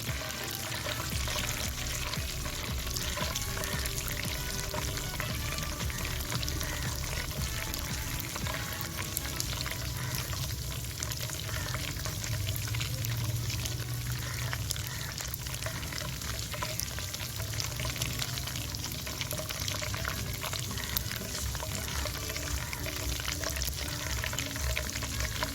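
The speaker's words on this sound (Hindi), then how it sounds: "अब घी को मैंने गरम कर लिया है। अब इसमें गोंद लेकर वो थोड़ी थोड़ी सी डाल दीजिए और इसको अच्छी तरह से फ्राई कर लीजिए।" Edible gum (gond) pieces frying in hot ghee in a pan give a steady, dense sizzle that runs the whole time at an even level, with no talking over it.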